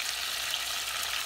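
Minced onion and garlic hitting a hot pan alongside browning meat, a brief steady hiss of frying with a close, even sizzle and no talking.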